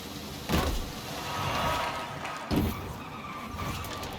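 Porsche Taycan Cross Turismo braking hard and skidding in Forza Horizon 5, with two sharp tire-screech bursts about two seconds apart over a steady rolling road and motor hum, moderately loud and without speech.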